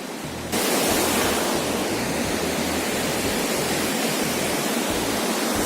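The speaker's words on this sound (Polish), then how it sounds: "Strumyk." A valley stream near Jeita Grotto, Lebanon, rushes in a steady, loud, broadband wash of flowing water that starts abruptly and continues unbroken, with no voices.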